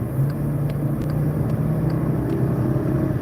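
A naturally aspirated V5 car engine hums in a low, steady drone from inside the cabin, with faint road rumble and a few light ticks over the continuous note.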